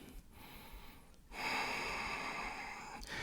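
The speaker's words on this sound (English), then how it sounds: "Steady breath in. Steady breath out." Heavy breathing from someone holding a plank in an intense power yoga class: a few sharp, audible breaths and gasps, close and fairly quiet, with a steadier hiss of exhalation toward the end.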